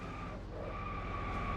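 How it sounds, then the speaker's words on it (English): Race cars at a NASCAR race at Talladega, 2009 Aaron's 499, with a steady, high tyre skid and loud, continuous engine roar as a crash unfolds on the front stretch. "We have a Big crash!"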